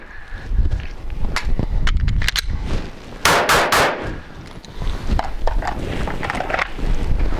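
Handgun shots fired during a close quarters retention drill, a scatter of sharp loud cracks including a quick cluster of three, mixed with clanking handling noise and a brief pause as for a reload.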